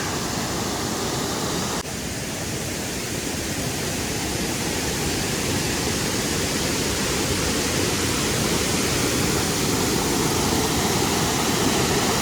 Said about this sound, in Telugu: ఈ కొండల మధ్యలో ఈ వాటర్ ఫాలు మామూలుగా లేదుగా